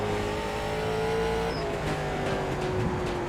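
A late model race car engine in the iRacing video game drones at a steady high pitch at Lanier National Speedway. A brief squeal cuts in midway, and a faint shift comes near the end, with no talking.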